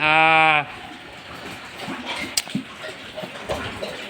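A newly weaned piglet on a farm lets out a loud, harsh, drawn-out squeal up close, followed by quieter snuffling, shuffling and scattered small noises.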